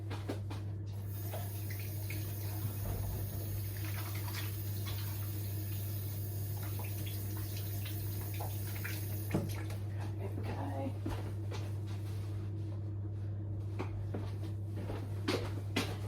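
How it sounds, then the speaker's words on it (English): Water runs from a tap while hands are washed in a home kitchen, a steady close splash with soft clunks and rustles, and a person talks over part of it. "Just gonna wash my hands so I'm now oily."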